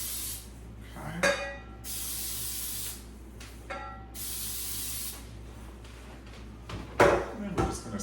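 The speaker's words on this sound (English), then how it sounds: "I have 2 9-inch round cake pans, and I'm going to spray them with baking spray." Baking spray hisses from an aerosol can in two long bursts and one shorter one into two 9-inch round cake pans, with clinks of the metal pans and kitchen handling noises between bursts.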